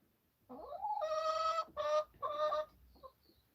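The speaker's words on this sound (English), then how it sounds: "We're looking at chickens at the moment, Tracy." A farm chicken lets out a loud, drawn-out squawking call close by, rising and breaking into three strained segments with a short cluck at the end, and nobody speaks.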